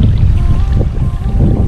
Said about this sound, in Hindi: बहते पानी की आवाज़ है ये काफ़ी सूदिंग आवाज़ है